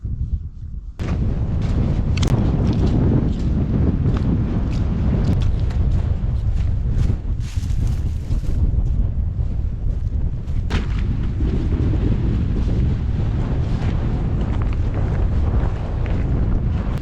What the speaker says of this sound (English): It's got really windy